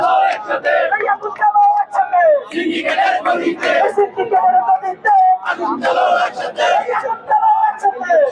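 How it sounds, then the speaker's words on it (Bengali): Students from seven colleges chant slogans in rhythmic bursts while marching toward the education building, a loud, close crowd of voices rising and falling in repeated call-and-response phrases. "তারা কিন্তু স্লোগান দিচ্ছে"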